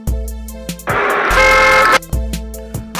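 Car horn honking in short repeated toots, then a longer sustained blast, loud and close with a low engine rumble underneath.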